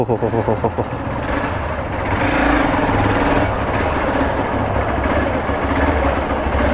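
A Hero XPulse 200 4V motorcycle engine pulls steadily during a test ride, a loud continuous drone that swells around the middle, mixed with road and wind noise.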